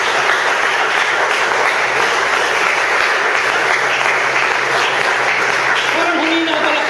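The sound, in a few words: congregation applauding in church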